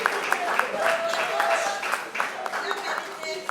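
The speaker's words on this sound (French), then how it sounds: "On applaudit bien fort pour D'Acosta," Applause from an awards ceremony audience, moderately loud clapping spread across the room, with a voice speaking over it and some tonal sounds mixed in.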